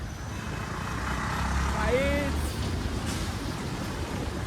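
A vehicle rolls through village traffic near a harbour, giving a steady low rumble of engine and tyres that swells slightly midway. A brief higher horn-like tone rises in the middle.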